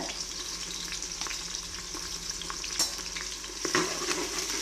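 Sliced big onion and green chillies fry in hot oil for mutton biryani, a continuous close crackling sizzle with occasional pops and stirring clinks.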